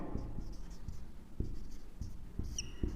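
Pen writing by hand on a surface during a lesson, with soft continuous scratching strokes and a few light taps, fairly close and steady, with no talk over it.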